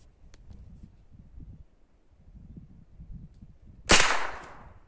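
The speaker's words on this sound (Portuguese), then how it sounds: "Disparo efetuado, pancada excelente." A modified 5.5mm air rifle fires a single sharp, loud crack at close range, and the sound decays quickly. Quiet, low mumbling speech comes before the shot.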